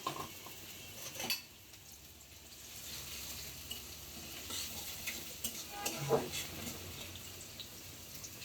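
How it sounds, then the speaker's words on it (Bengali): Onions frying with spices in a pan after a splash of water, soft sizzling under scattered stirring and clinks of utensil on pan, fairly quiet, with a voice in the background. "আমি পেঁয়াজটা ভেজে অল্প করে পানি দিয়েছি মশলা কষানোর জন্য"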